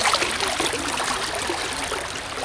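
Water washes gravel through a gold prospecting sluice box, a steady, close, loud rushing trickle with no pauses and no voices.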